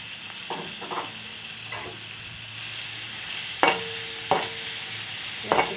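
Chopped onion and green chilli frying in a pan with a soft steady sizzle, broken by a few sharp spoon knocks and scrapes against the metal, close by.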